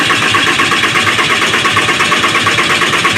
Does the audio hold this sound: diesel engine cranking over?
yes